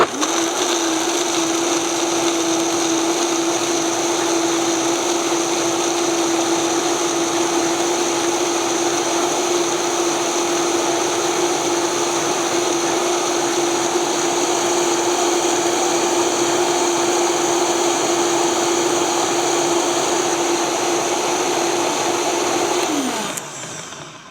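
A blender runs steadily at high speed for about 24 seconds, whirring a creamy pasta sauce with a constant motor whine, then winds down at the end with no talking.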